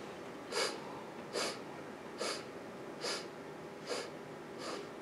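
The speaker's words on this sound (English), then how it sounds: "Each time you sniff has a sound to it" Kundalini yoga breathing with the inhale split into eight parts: short, sharp nasal sniffs repeat at an even pace, each a close, breathy hiss with quiet pauses between them.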